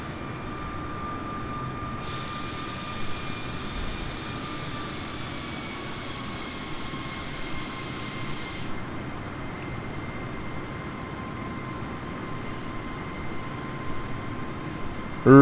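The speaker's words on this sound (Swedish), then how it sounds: "Vi kommer in med flygplan i overhead break at this time." Airbus airliner engines in Microsoft Flight Simulator 2020: a steady, loud engine drone with a constant whine, plus a brighter hiss layer that comes in for several seconds and then drops away.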